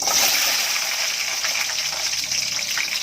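Fenugreek seeds and small onions go into hot oil for a Kumbakonam-style vathal kuzhambu, making a steady, loud, close hiss and sizzle that runs for about three seconds with no voice over it.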